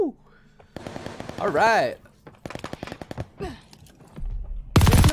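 Gunfire in the shooter game Call of Duty: Vanguard, with short bursts and a loud sustained volley near the end, mixed with game effects while someone talks over it.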